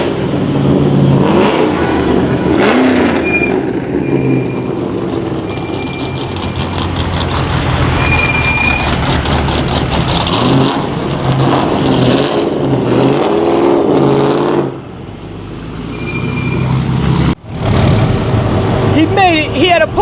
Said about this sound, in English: that's the loudest GTO you will find.